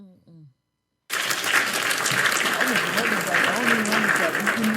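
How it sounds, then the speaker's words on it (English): Canned applause played on a podcast, a dense burst of clapping and cheering that starts abruptly after a brief voice and continues loud and steady to the end. "I'm just trying to find an appropriate applause"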